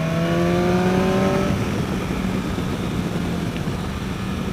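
BMW S1000XR motorcycle engine accelerating on twisty roads, rising whine sweeping upward for about a second and a half, then giving way to steady loud wind and road roar.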